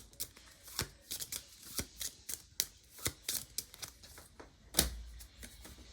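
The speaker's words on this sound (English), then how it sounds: "Reshuffle the enemy attack deck." A deck of enemy attack cards for the Trudvang Legends board game being shuffled by hand on a table, a series of crisp riffling and tapping bursts, close and fairly quiet, with no talk.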